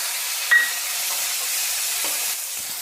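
Finely chopped tomatoes go into a pan of frying onions for an egg and amaranth-leaf stir-fry, giving a steady soft sizzle and hiss with a brief clatter near the start.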